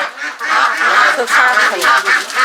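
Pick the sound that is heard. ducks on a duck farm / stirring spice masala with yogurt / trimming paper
ducks on a duck farm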